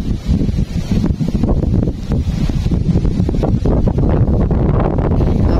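Strong, gusty wind buffets the microphone at a fishing spot during rain, giving a loud, continuous low roar with no pauses.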